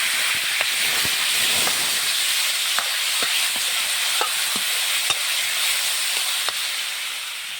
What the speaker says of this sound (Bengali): আমি টমেটোটা দিয়ে দিব।